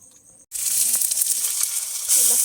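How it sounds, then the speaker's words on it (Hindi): Spices hit hot oil with a sudden loud sizzle while tempering a vegetable dish, continuing as a bright, crackling hiss, with faint clatter near the end. "अब बनेगा यहाँ पे सब्जी का लगेगा तड़का"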